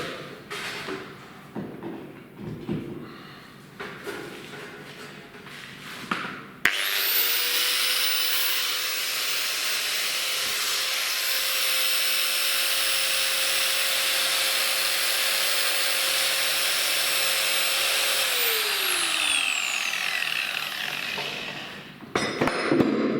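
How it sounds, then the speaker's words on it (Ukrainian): An angle grinder whirs up sharply and runs with a high, steady grinding whine. It holds for about twelve seconds and then winds down, with rustling handling noise before it. "Болгарка."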